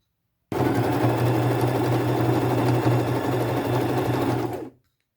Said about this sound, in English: I again will zigzag stitch with white thread